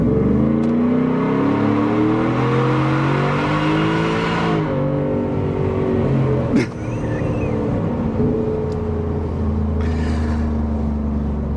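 A 2024 Ford F150 4x4 with a 5.0L V8 and a stage 2 Whipple supercharger accelerates hard at half throttle, its engine and supercharger whine climbing loudly through the gears, close and continuous, with a brief thump midway.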